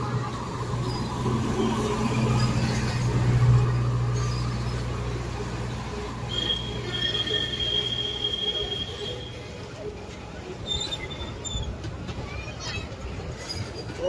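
A train pulls into a station in Surat, its wheels letting out a thin, drawn-out squeal over a steady rumbling rush, with people talking nearby throughout.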